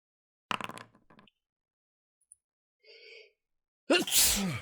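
A single sharp sneeze bursts out near the end, loud and close, after some earlier brief breathy sounds and a faint click.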